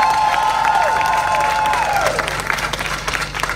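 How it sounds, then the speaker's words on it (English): Outdoor crowd applause at a park dedication honoring Bishop Frank O. White, steady clapping and a few cheers throughout, with a faint whistling tone over it. "I want to give a big round of applause for him and his family right now."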